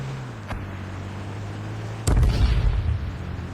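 A Jeep in the video game H1Z1 gives a steady low engine drone, then a sudden loud, rough burst of skid or impact noise that lingers to the end.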